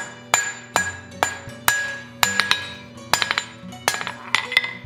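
A hand hammer strikes hot steel on an anvil, drawing a taper on a fireplace poker toward a leaf; sharp ringing blows land in an irregular rhythm, singly and in quick pairs, close and clear with no talk.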